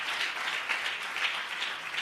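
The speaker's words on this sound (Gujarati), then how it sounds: "જોરદાર તાળીઓ આપીએ." A church congregation applauds, a steady, even patter of many hands clapping at moderate volume, continuous across the moment.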